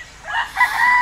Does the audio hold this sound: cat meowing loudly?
no